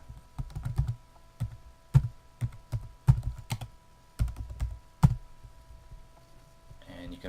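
Keystrokes on a computer keyboard entering a note, coming in uneven bursts of close, crisp clicks with short pauses between them, and a brief rustle near the end.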